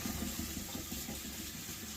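Tap water runs steadily over a cast iron skillet being cleaned for restoration, a soft continuous hiss and splash that stays low and even for the whole stretch, with no voices.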